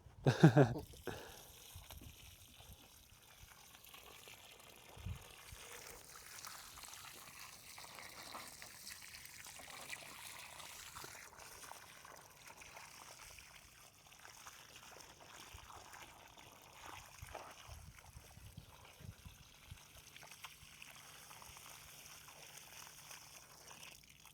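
Water dumped out in an ancient Moroccan village, opening with a brief burst of splashing, then a long steady trickling, dribbling flow that runs at moderate level throughout.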